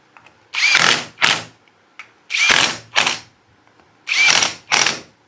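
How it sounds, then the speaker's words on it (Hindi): Power tool running on the rear chain sprocket bolts of a Yamaha FZ-S V4 motorcycle, loud and close, in six short whirring bursts that come in pairs with brief pauses between them. "एक एक बोल्ट को अच्छा से कर देते हैं टाइट"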